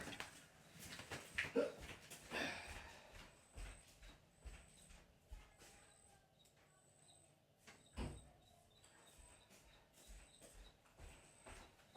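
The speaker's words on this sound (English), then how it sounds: "I might go shut that other door." A door is shut indoors, with a distinct thud partway through amid scattered footsteps, handling knocks and a faint electrical whine in a quiet room; no one speaks.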